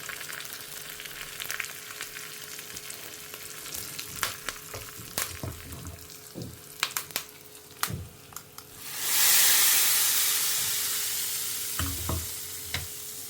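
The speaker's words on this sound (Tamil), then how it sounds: "தேங்காய் எண்ணெய் போட்டு தான் நம்ம தாளிக்கணும்." Mustard seeds, curry leaves and asafoetida hit hot coconut oil, giving scattered popping crackles and then a sudden loud sizzling surge that slowly fades, close and with no talking.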